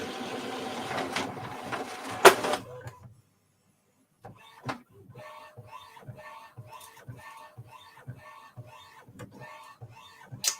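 Inkjet printer, a 7820 model, running a nozzle check print: after a brief pause, a steady series of rhythmic mechanical passes and clicks from the print carriage repeats through the rest, close and moderately loud.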